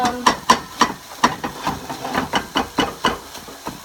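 Repeated knocks of a utensil chopping Korean fried rice in a pan on the stove, a brisk uneven rhythm of a dozen close strikes over a faint sizzling hiss.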